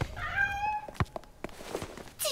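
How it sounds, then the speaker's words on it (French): A dirty cat that wanders through air ducts gives a quick faint meow near the start, followed by soft scuffling noises and a brief bump, heard at a slight distance without speech. "Ça doit être Tipex, le chat de Paul"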